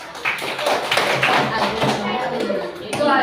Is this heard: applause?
yes